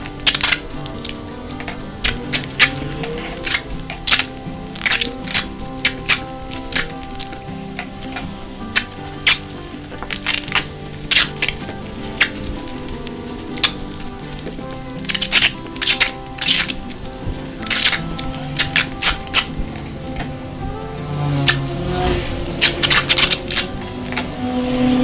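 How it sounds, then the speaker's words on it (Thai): Adhesive tape is pulled and pressed around a wrapped package of salted king mackerel in a kitchen, giving repeated sharp ripping and crackling bursts in irregular clusters, close and loud, with no talk. "เพิ่มความแน่นหนาหน่อยครับด้วยเทปกาวนะจ๊ะ"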